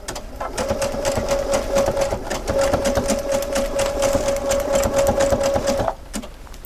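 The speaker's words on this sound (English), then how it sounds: "as I'm stitching the first couple stitches, it looks like it's kind of close together" A sewing machine stitching fabric runs steadily and close up for several seconds with a fast, even mechanical rhythm and a constant motor whine, then stops abruptly near the end.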